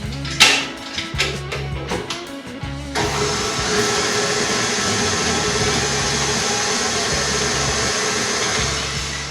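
An electric mixer beats red velvet cupcake batter after an egg is added. A few clunks and knocks come first, then a steady, loud motor whir runs continuously up close.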